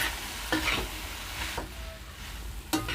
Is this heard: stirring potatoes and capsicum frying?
yes